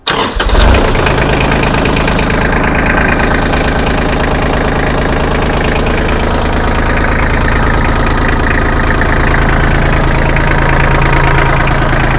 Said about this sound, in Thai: ผมจะลองติดเครื่องให้ดูนะครับติดเครื่องให้ดู